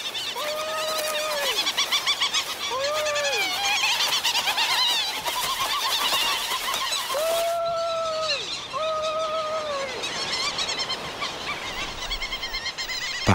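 Many Solander's petrels call across a crowded colony, with repeated wavering, rising-and-falling cries overlapping near and far against a dense background chorus of birds.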